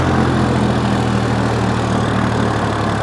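A Sonalika DI three-cylinder tractor engine running steadily nearby, a loud, even diesel drone with a low throbbing hum and no talk.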